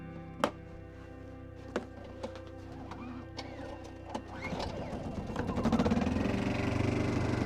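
A backup generator engine at an off-grid home in a winter storm cranks with a few sharp knocks, then catches and settles into a steady mid-pitched running drone that builds louder toward the end.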